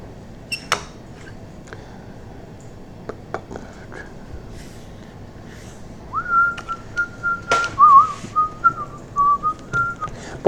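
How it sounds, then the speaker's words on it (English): A person whistles a wavering tune close to the microphone, starting partway through and continuing to the end, with scattered soft taps and scratches of drawing around it. "I bet that whistling's really annoying on the microphone"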